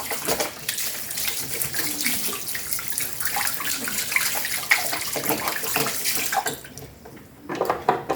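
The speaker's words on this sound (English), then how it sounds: "So I have to wash my hands here because I don't have the sanitizer with me." Hands are washed under a running tap in a labour ward setting. Water gushes and splashes steadily and loudly, briefly thins out near the end, and then splashes again. No one speaks.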